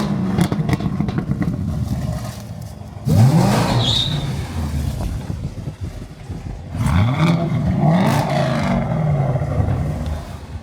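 Chevrolet Camaro ZL1 with a 700 hp engine revs hard twice, each burst a loud close roar sweeping up in pitch and falling back, with idle rumble in between.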